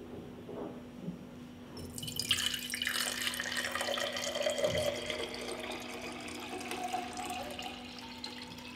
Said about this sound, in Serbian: vodu sipam u čiste tegle